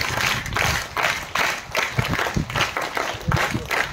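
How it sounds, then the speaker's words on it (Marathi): Students clap for guests at a school cultural festival with flute and tabla performances, a dense, loud burst of applause that keeps going steadily for several seconds with sharp individual claps standing out. "टाळ्या मात्र जोरदार झाले पाहिजे बरं का"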